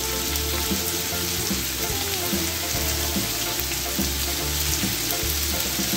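Rice sizzling in butter in a pan for a festive Christmas rice dish, a steady loud frying hiss with crackle, continuous and close, with occasional stirring scrapes underneath.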